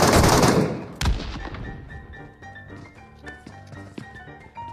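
Shotgun blasts in the video game Metro Royale: one loud, full burst opens, a second sharp shot follows about a second later, and quieter clicks and in-game noise trail off behind. No talk is heard.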